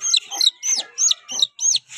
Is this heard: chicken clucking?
yes